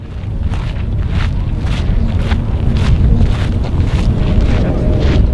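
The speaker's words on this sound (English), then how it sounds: "Wind's blowing out here today, so it's a little hard." Strong wind buffets the microphone outdoors at an aircraft museum in Tucson, Arizona, a steady low roar lasting throughout, with no voices.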